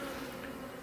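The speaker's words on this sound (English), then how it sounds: "It's really quite noisy in the air. Inside the tree there is still plenty of bees" Bees from a hive in a fallen tree buzz steadily at close range, a dense continuous drone with no gaps and no voices.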